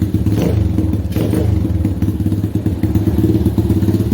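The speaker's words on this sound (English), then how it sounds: "And that started up real easy." A 125cc pit bike engine with a Mikuni VM22 26mm carburetor, running at a steady, loud, close, thumping idle with a quick rhythmic beat.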